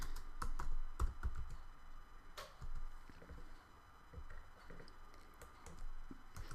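Computer keyboard typing a new forum topic in Moodle, a quiet run of quick irregular key clicks in short bursts with small gaps, close but faint.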